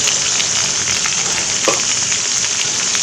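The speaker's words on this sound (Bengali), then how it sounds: "মশলাকে একটু কষিয়ে নেব।" Spices, cumin-coriander powder and turmeric among them, sizzle steadily in hot oil for a Bengali fish and vegetable curry, a dense continuous hiss close by with a brief stir partway through, no talk.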